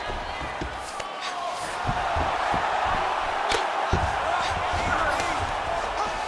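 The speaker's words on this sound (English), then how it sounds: "crowd absolutely loving it as the fighters, however compromised, make their way back to the feet" Arena crowd in the UFC 5 video game roars steadily through a bout between Khabib Nurmagomedov and Jon Jones, with a sustained wash of cheering and a few sharp impact thuds, while a commentator talks over it.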